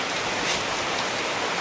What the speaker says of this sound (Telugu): అదిగోండి వాన ఎలాగ వస్తుందో